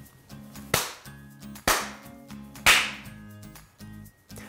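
Three sharp hand claps spaced about a second apart, each a loud crisp crack with a short decaying tail, made as a sync marker for editing, with no talking.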